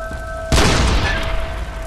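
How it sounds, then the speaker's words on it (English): A cannon blast in the video game Bloodborne: one sudden heavy boom that rolls into a long rumbling decay, loud and close after a quiet lead-in. "The cannon."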